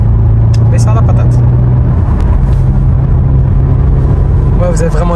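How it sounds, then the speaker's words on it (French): An Audi RS6 C7 drives along a road, its engine and exhaust rumbling steadily underneath people talking in the cabin, with a brief shift in tone partway through. "L'avantage de la C7, c'est vraiment ça. C'est l'échappement."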